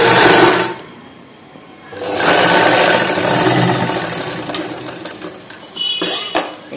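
Sewing machine stitching the shoulder seam of a princess-cut blouse, loud and close, in two runs separated by a brief pause, with a short burst near the end.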